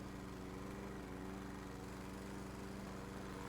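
The lawn mower engine in the Steam title Lawnmower Game gives a steady, droning hum that holds unchanged throughout at moderate level, with no talking over it.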